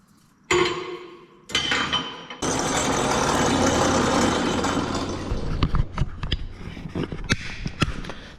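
A power tool cutting through a steel wrench in a shop working on a Ford 7000 row crop tractor, with a few short starts followed by a sustained loud grinding cut that trails into scattered knocks and clatter.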